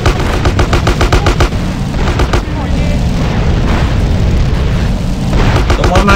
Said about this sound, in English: One man got a rocket launcher also.